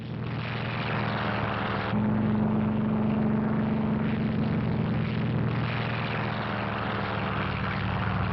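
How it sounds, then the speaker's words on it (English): Several WWII Task Force 58 carrier aircraft drone steadily overhead during the aerial assault on Kyushu, a continuous loud propeller-engine roar that deepens and swells midway and holds without pause. "Admiral Mark A. Mitcher's tireless Task Force 58 stepped up its 2-week-old aerial assault on Kyushu and the enemy home islands."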